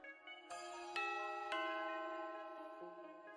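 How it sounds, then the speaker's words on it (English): A doorbell rings in the Danganronpa Another 2 game with a series of clear, bright chime tones struck one after another, each ringing out and fading. It is heard alone and fairly soft. "Huh? The doorbell."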